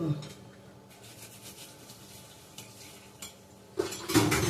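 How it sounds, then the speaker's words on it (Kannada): Dishes, pots and utensils being washed: steady clinks and scrapes of metal and crockery, louder clattering near the end, with a person talking over it. "ಪಾತ್ರೆ ತೊಳಿತೀನಿ ನಾನು ಸ್ವಲ್ಪ ಪಾತ್ರೆ ಇದೆ ತೊಳ್ಕೊಂಡು ಬಿಡ್ತೀನಿ"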